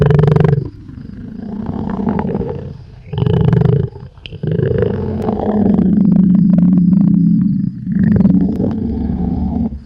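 A tiger roars in a jungle safari setting, deep rumbling growls repeated in long swelling bursts with brief pauses, loud and close, with no talk over them.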